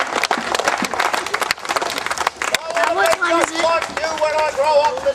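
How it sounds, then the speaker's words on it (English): Audience at an Old Sydney Town street theatre performance in Somersby breaks into dense clapping close by, mixed with shouts and cheers, with a voice calling out over the applause toward the end. "And a round of applause"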